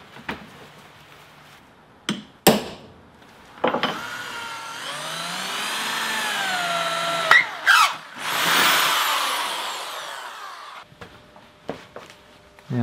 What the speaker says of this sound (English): Then I'll drill the holes.